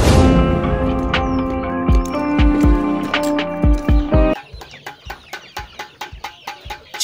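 Chickens cluck and squawk up close, an early loud drawn-out call giving way to a series of short, sharp clucks.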